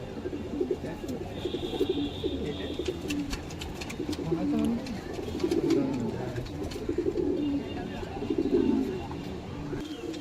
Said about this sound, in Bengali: ডবল ঘেরের পায়রা এটা